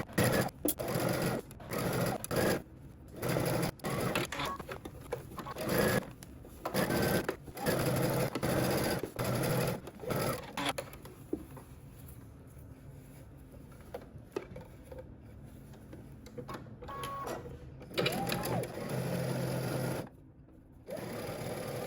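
A sewing machine stitches the front seam of a Simplicity S3128 dress in steady bursts of rapid mechanical whirring, loud and close, separated by short pauses.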